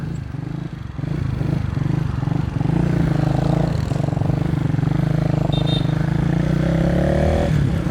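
A Benelli Motobi Evo 200 motorcycle with an Akrapovic aftermarket muffler runs loud and steady with a deep, throaty big-bike exhaust note, revving slightly higher near the end, close by.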